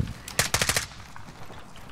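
Video game gunfire from the player's weapon, a quick burst of about five rapid automatic shots, loud and close, followed by a quieter tail of faint game ambience.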